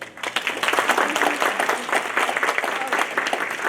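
An audience at a Métis council annual general meeting applauds in a steady burst of clapping from a modest crowd indoors, with some voices mixed in.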